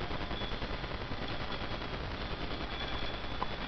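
Rapid, continuous gunfire from the video game I Wanna Be The Guy, a dense steady burst of shots running unbroken for several seconds at close, even loudness.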